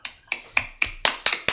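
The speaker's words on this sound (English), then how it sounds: "I'm applauding." One person claps hands alone, seven crisp, close claps in a steady, evenly spaced rhythm over a second and a half.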